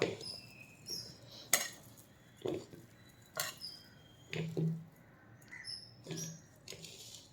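Flaked millet being stirred with grated coconut in a bowl, with no water added, giving a series of soft scraping and clinking strokes at an irregular pace, close and fairly quiet.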